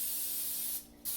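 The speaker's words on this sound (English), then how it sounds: "So I'm going to use some of this olive oil cooking spray on the actual pan." Olive oil cooking spray hissing in a steady close burst onto broccoli florets, with a brief pause near the end before spraying resumes.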